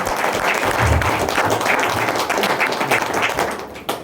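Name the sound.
loud applause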